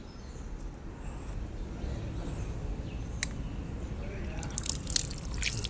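Water trickles and drips at a temple tank, a steady close wash of running water with a few sharp splashes, and a voice speaks briefly over it.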